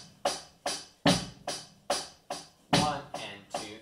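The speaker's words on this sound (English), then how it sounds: "Okay, so bass and snare, or bass and hi-hat, excuse me." Drum set in a band camp lesson playing a simple steady pattern of bass drum and hi-hat, about eight evenly spaced hits with sharp attacks, close and fairly quiet with no talking.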